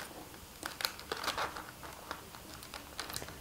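Baking parchment paper is handled and rolled into a piping bag, giving soft, scattered crinkles and rustles, close and quiet, with no talk.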